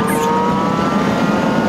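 A truck engine roars loudly and continuously at full throttle during a road race against a Ram pickup, a dense sustained drone with a steady whine riding on top. No one speaks.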